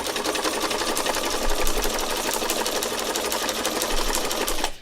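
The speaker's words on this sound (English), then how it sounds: "The inside of this toe of the presser foot is running along the top artwork." A sewing machine runs continuously, stitching along printed artwork with the inner toe of the presser foot guiding the fabric, a loud, close, rapid mechanical whir that stops abruptly at the end.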